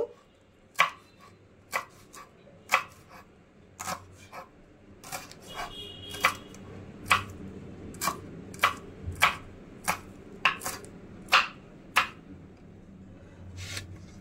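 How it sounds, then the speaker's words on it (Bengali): A knife chops green chillies on a board for a mango and onion dish, with a series of sharp, distinct cuts at an irregular rhythm of roughly one per second, close and clear over quiet room noise. "কাঁচা লঙ্কা কুচি করে নিলাম"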